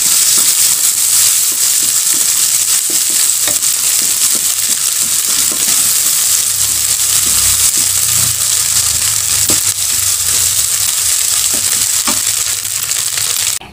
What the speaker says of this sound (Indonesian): Lalu kita masukkan telur asinnya yang sudah dicincang tadi. Kita tumis sampai agak kering.